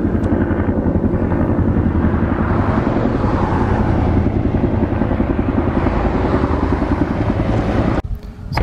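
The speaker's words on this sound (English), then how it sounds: "I think we got news helicopters above us right now" A news helicopter thuds steadily overhead during the 2020 El Dorado wildfire in Yucaipa, California, its rotor chop loud and continuous, mixed with a droning engine before briefly cutting out near the end.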